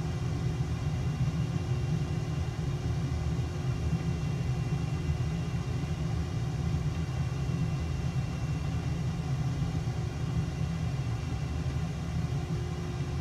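An F-111E jet in Microsoft Flight Simulator 2020 slows down on its landing rollout, giving a steady, loud, low engine rumble and hum that stays constant throughout, with no voices.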